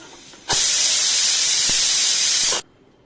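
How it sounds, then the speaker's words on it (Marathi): A loud, steady hiss of steam bursting from a pressure cooker of sprouted masoor lentils for about two seconds, then cutting off abruptly. "कुकरची वाफ आपण काढून घ्यायचे म्हणजे वाफेत मसूर जास्त शिजणार नाही"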